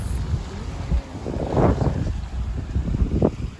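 Steady wind rushes past a sailboat moving through open sea off Indonesia's Gili Islands, with continuous buffeting gusts and a faint wash of water under the hull, no voices.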